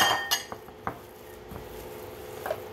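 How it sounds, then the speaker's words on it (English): Ground Spam, ground pork and bacon are mixed in a bowl, giving soft, sparse clinks and taps of a utensil against the bowl, quiet and close, no talk. "I'm just gonna mix it a little bit so that the bacon kind of distributes throughout the whole"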